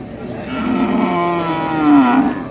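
A native-breed bull at a rural cattle market lets out one long, loud, close moo lasting a couple of seconds, rising toward the end over faint market background noise.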